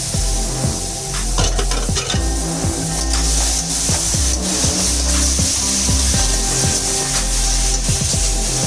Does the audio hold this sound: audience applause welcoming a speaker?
no